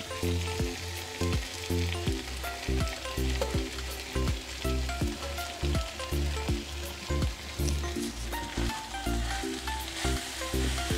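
Kannur-style chicken upperi with roasted coconut is stirred in a hot frying pan, sizzling steadily under rhythmic background music.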